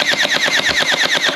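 A gel blaster toy gun fires on full auto, a rapid burst of about a dozen sharp snapping shots in even succession, loud and close, with no voices.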